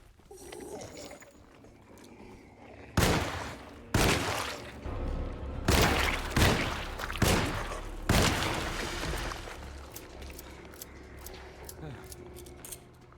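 Gunshots in the horror game Alone in the Dark (2024) ring out as five sharp, loud shots spaced about a second apart, followed by quieter mechanical clicks.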